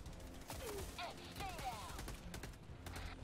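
Gunfire in the Helldivers video game, rapid shots crackling in dense bursts across the whole stretch amid chaotic battle noise, with voices calling out over it.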